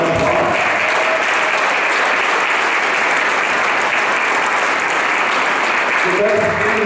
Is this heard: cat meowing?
no